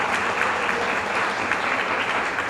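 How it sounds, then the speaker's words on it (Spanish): An audience applauds at a forum on tourism laws in Mexico City, with dense, steady clapping at even volume throughout and no voices on top. "De verdad, un aplauso."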